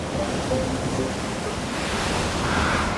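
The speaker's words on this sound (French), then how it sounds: "Il y a des traînées d'écume, des lames déferlantes." Breaking sea waves churn under a strong gale of around Beaufort 7 with streaks of foam, a steady, dense roar of surf and wind with no voices.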